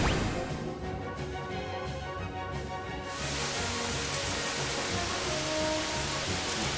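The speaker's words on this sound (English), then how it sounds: "Acid rain." Acid rain attack from the Final Fantasy VI Pixel Remaster battle, a steady hissing wash of rain-like noise over game music that grows denser and louder about halfway through, with no voices.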